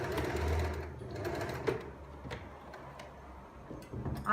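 A sewing machine runs steadily along a seam line, its motor whirring with a fast mechanical stitching rhythm, then slows to lighter ticking clicks near and close up, with no talking.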